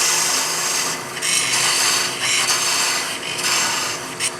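A D-Way parting tool cuts into wood spinning on a lathe for a custom walking stick cap, a loud continuous rasping scrape with slight surges and no talking.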